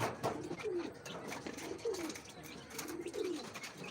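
Pigeons coo in soft rolling phrases at close range, several calls repeating over a few seconds, with faint chirps and light background noise.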